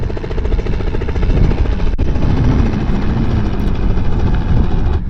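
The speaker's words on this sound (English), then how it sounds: "There's a helicopter." A helicopter at an airfield runway gives a steady, loud low rotor and engine drone that holds for the full five seconds with no talking over it.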